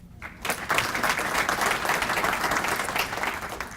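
A crowd of guests at a Paramount Chamber of Commerce State of the City luncheon bursts into sustained applause after a short quiet moment, many hands clapping evenly and fairly loud for several seconds.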